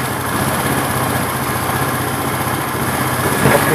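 A Kymco Trend SR 125 scooter engine idles steadily with a replacement carburetor vacuum fitted to its original carburetor, a close, continuous buzzing drone that holds even for several seconds with a slight swell near the end.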